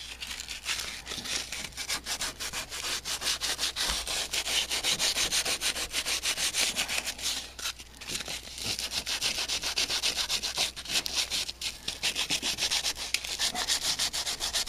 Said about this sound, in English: I'll take a finer sandpaper here.